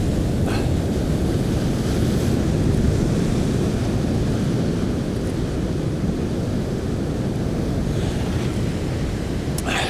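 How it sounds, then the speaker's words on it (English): Ocean waves crash continuously against the rugged Donegal coastline, a loud, dense roar of surf mixed with gusting wind buffeting the microphone. "the waves crashing"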